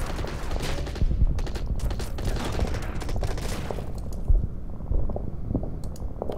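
Repeated gunfire bursts and booms from an artillery barrage in the wargame Order of Battle, with the US Marines fighting at Saipan. Dense, continuous and fairly loud, with a few heavier thuds standing out.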